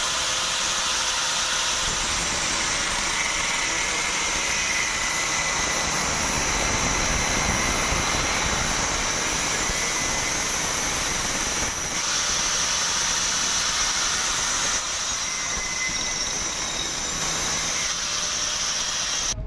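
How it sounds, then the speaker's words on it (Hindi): An angle grinder fitted with an iron cutting blade slices through angle iron, a loud continuous high-pitched whine and hiss that holds steady for the whole stretch, with slight shifts in pitch as the blade bites. "तो दोस्तों हमने ग्राइंडर को आपके सामने काट के दिखाया है एंगल को।"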